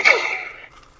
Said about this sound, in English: that was the sound of his bow